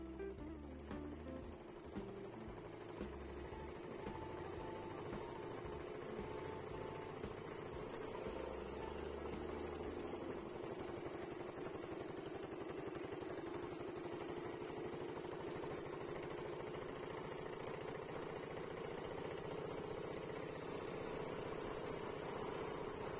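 A 1925 Humber 3.5 hp motorcycle engine, its vaporizing carburetor unable to be properly adjusted for modern petrol, idles steadily and loudly up close, a continuous rough chugging drone with some uneven thumps in the first seconds.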